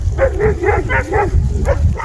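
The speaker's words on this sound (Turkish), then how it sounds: "Sürüye yaklaşan yabancı köpeği kovuyor kangallar." Kangal livestock guardian dogs bark in a rapid, close run of deep, rough barks as they chase a stranger dog away from a flock out in the open.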